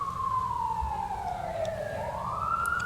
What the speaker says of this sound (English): I just get to hear the sweet, sweet siren.